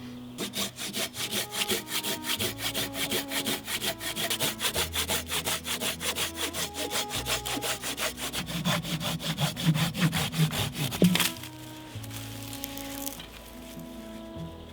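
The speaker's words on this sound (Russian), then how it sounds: "Хорошо пилит, но, конечно, немножко длины не хватает для таких толстых бревен" A new, sharp hand saw rasps steadily back and forth through a thick wooden log in a quick, even rhythm, close and continuous before stopping near the end.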